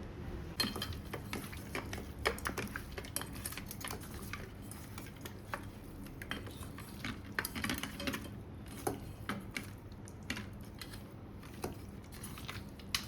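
A spoon stirs chicken and turmeric in a pot, giving soft, irregular clinks and scrapes against the metal, quiet and close, with no talk.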